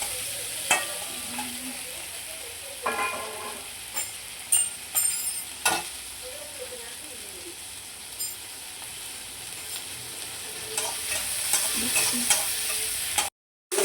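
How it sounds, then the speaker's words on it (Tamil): Onion, coconut, garlic, ginger and tamarind sautéing in a pan, with a soft steady sizzle under repeated scraping and clinking stirring strokes, near and unaccompanied by talk. "இதை நல்லா ஒரு வதக்குவோம்"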